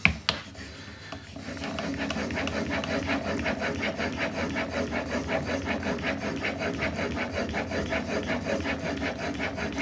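Blade stroked back and forth on a 6000 grit sharpening stone, a close, steady rasping scrape in even rhythmic passes after a couple of brief knocks at the start.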